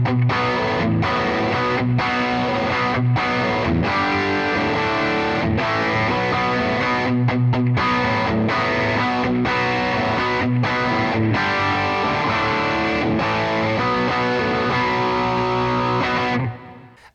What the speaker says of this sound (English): one amplifier is going to be panned over to the left and one over to the right